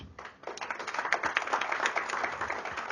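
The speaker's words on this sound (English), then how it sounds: "You can give them an applause." An audience at a leadership conclave claps for people who gave their lives assisting police, with sparse hand claps building into a moderate, fairly close round of applause that stays steady.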